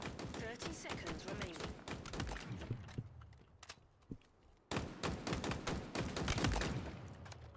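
Assault rifle in Halo Infinite firing in short, rapid bursts, each a tight cluster of sharp shots, with two brief pauses and a gap before the bursts resume loudly, all close and in the foreground.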